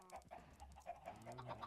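Chickens cluck softly in Minecraft, a string of short, quiet clucks in quick succession with no talk.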